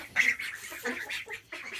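Little ducks quack in short, soft bursts as they file into a coop at dusk, several close calls overlapping in a quiet outdoor setting.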